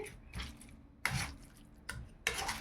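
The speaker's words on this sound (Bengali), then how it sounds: "ম্যাশার নিয়েছি, ম্যাশ করে নিই" Boiled seeded bananas are mashed with a masher, giving a few soft, separate squishing and tapping strokes against the bowl, close and fairly quiet with pauses between them.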